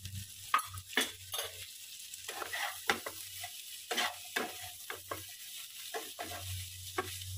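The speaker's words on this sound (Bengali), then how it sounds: "নিচটা যাতে লেগে না যায় সেই জন্য আমি আর একটুখানি তেল দিয়ে দিলাম।" Food fries in a pan of oil while a utensil stirs it, close-up scraping and clinking strokes at irregular intervals over a steady faint sizzle and a low hum.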